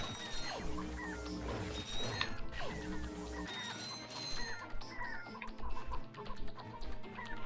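Chicken clucking from the Ratchet and Clank video game, repeated fowl calls set against dense game music and effects that stay loud throughout.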